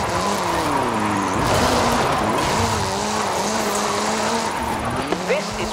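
A Ford Focus RS RX gymkhana car with a 2-litre turbocharged front-mounted engine and all-wheel drive drifts in the racing game Forza Horizon 5 in Mexico: a loud revving engine that rises and falls, with continuous tyre squeal.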